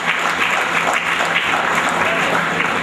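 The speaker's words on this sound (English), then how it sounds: "I request everyone to give a huge round of applause for all the champions." Dense, steady applause from an event audience cheering champions called onto a stage, a continuous wash of many hands clapping at close range.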